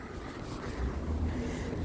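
Strong wind blows steadily outdoors on a sunny spring day, a continuous rumbling gust buffeting the microphone with no voices over it.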